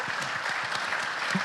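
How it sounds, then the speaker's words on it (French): Audience applause at a building-trade convention talk, a steady wash of many hands clapping at moderate loudness with a few sharper individual claps. "On peut les applaudir"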